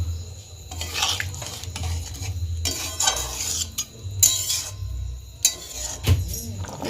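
Boiled peas being stirred into chana masala in a pot, repeated scraping and clinking of a spoon against the pan in uneven strokes with a soft simmer beneath, close up and without talk.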